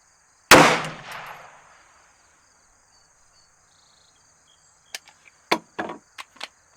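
A single sharp, loud ADE Ares Pro pistol shot firing a 125 grain Brazos reload at an outdoor range, ringing briefly. Faint clinks and taps follow several seconds later, with a steady high insect-like whine in the background.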